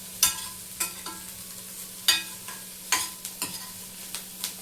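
Onions frying in a pan, stirred with a spoon: a soft steady sizzle broken by about a dozen sharp scraping strokes at an uneven pace, close and fairly quiet, with no talking.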